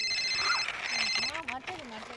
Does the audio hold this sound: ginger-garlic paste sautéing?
no